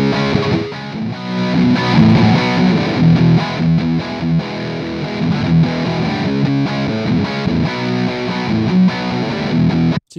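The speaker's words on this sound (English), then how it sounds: "So you can get some really heavy distortion there." Heavy, high-gain distorted electric guitar through a Brainworx bx_rockergain 100 Orange-style amp simulator with the gain pushed up and the bass cut, loud chugging riffs and sustained chords that play alone for about ten seconds before stopping abruptly.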